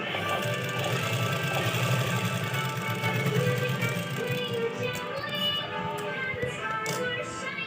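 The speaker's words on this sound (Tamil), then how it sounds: "லைனிங் ப்ளவுஸ் மேலே தான் தையல் போடணும்" Sewing machine stitching a lined blouse, running in a steady, continuous mechanical whir close by that eases slightly toward the end.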